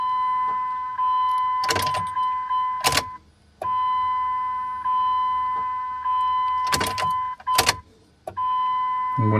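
With the key on, the fuel pump of an Audi R8 primes with a steady, faint electric whine. Sharp clicks come through it, and the whine cuts out briefly twice.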